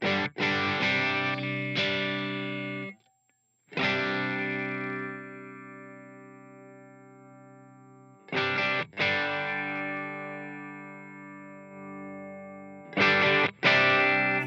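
Low-gain electric guitar through a Line 6 HX Stomp amp model, with strummed chords left to ring and decay in long sustains, separated by brief pauses and a few quick restrikes.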